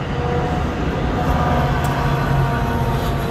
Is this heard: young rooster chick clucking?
no